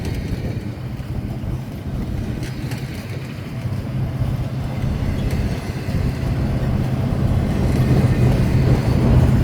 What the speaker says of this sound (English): There's a backup engine to help push it.